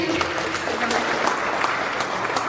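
An audience at a Bitcoin unconference in Kenya applauds with steady, dense clapping throughout, and a voice is faintly heard over it.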